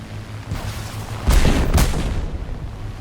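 Heavy artillery fire in a World War II combat game set in the defense of Malta: two deep booming blasts in close succession with rumbling tails, loud over a steady low engine drone, no talking.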